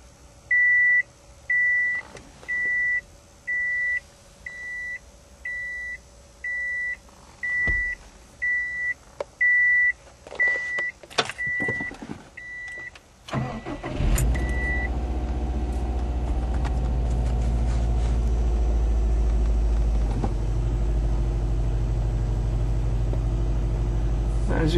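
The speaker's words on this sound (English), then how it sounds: "And I'm going to crank the car." A cold car with an aftermarket gauge setup is cranked and started: a dozen evenly spaced electronic beeps sound first, then clicks and a brief crank before the engine catches into a loud, steady low rumble.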